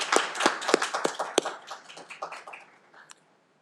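Graduation audience applauding staff at a Tufts political science, civic studies and peace and justice ceremony: a small scattered group claps, with a few sharp distinct claps at first, then thinning and dying out after three seconds.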